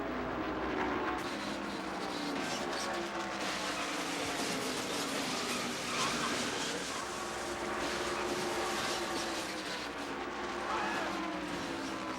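Race cars roar around Daytona International Speedway during the ARCA 200 stock car race, a continuous dense engine drone with shifting pitches as the field passes, steady and loud throughout with crowd-like wash beneath.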